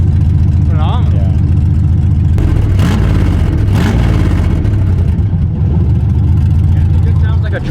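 An R32 Skyline's engine runs with no exhaust fitted, a loud, raw, rumbling idle that continues steadily throughout, with people talking over it close by.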